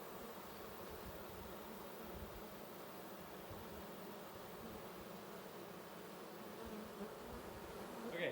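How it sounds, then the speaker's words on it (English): Honey bees buzzing around hive frames, a soft continuous droning hum of many insects close by, quiet and steady throughout with a slight swell at the end. "The bees flying around in there."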